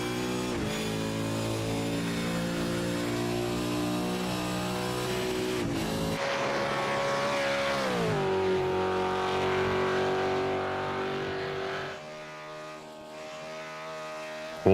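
A V8 Supercar engine in a racing sim at Bathurst revs high and sustained, dropping pitch through downshifts and climbing again, then easing off near the end, loud and close.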